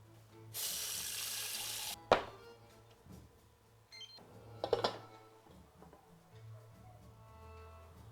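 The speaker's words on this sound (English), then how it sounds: "So a bit of boiling water just to cover it up." Boiling water poured from a kettle over sarmale (stuffed cabbage rolls) in a baking tray, a loud steady gush lasting about a second and a half, followed by clinks and knocks of the tray and kettle in a quiet kitchen.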